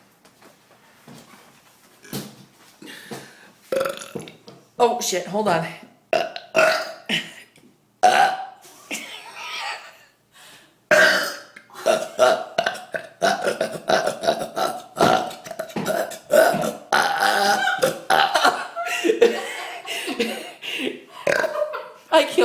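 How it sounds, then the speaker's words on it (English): Loud, echoing belches ring out in a stairwell, several long burps spread across the span alongside talk and a startled dog's stir. "I let out a burp so loud the dog got startled."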